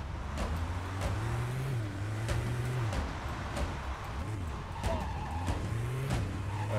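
Car handbrake skids in Driv3r, repeated tire squeals and slides over an engine rising and falling in pitch, several swerves across the span, close and loud.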